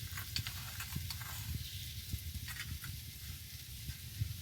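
Ginger and coriander paste frying in a pan with chilli powder, with a faint steady sizzle running under soft repeated taps and scrapes of stirring, quiet and close throughout.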